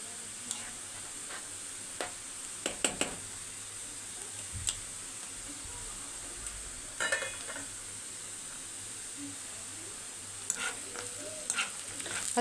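Pasta for Egyptian koshari being stirred as it fries in a pan, with scattered scraping and clinking strokes over a soft, steady sizzle, close but faint.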